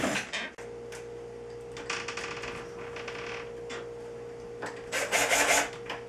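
Screwdriver working loose an old door knob set, several scraping, rasping turns and brief metallic clicks close by, with a louder burst of grinding near the end and no talk.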